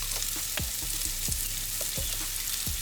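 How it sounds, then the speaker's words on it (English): Onions fry with brown sugar in a pan, making a constant close sizzle broken by several soft thuds and scrapes from stirring. "We're gonna cook and stir until the brown sugar has dissolved and then the onions become soft."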